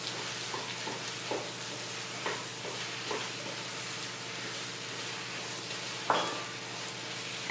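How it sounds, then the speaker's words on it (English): Steady sizzle of oil in a pan of Chettinad garlic masala curry as chopped tomato goes in, with soft stirring taps and a sharper clatter near the end; no talking. "it's time to add the tomatoes"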